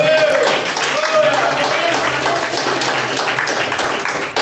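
Congregation applauding in church during a sermon, a dense, steady wash of clapping that fills the room, with voices mixed in throughout.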